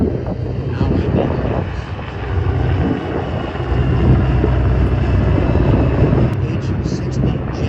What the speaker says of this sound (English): H-60 Jayhawk, built by Sikorsky Aircraft in Connecticut.